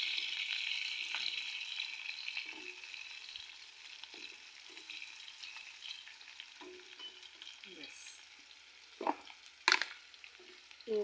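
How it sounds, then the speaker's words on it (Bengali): Onions fry in hot oil in a pan in a home kitchen after meat has been browned, giving a soft continuous sizzle with scattered scrapes and clanks of stirring that grow louder toward the end. "এখন আমি পেঁয়াজগুলোকে ভেজে নিচ্ছি"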